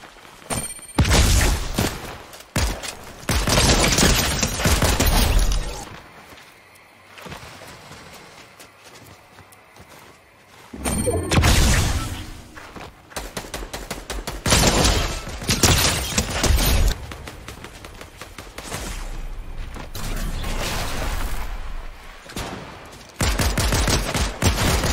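Loud bursts of rapid gunfire from a gun in Fortnite Chapter 4, coming in long dense volleys separated by brief quieter pauses, close and continuous with no talking.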